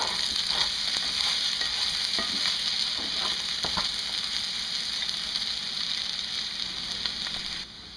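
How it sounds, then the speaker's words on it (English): Potatoes frying in a little oil in a pan, a steady close sizzle with occasional stirring scrapes throughout, no talk. "I'm just going to add a little bit of oil, not very much, just enough to keep it frying and not burning."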